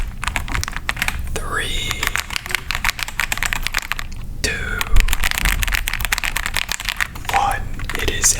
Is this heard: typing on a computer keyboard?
yes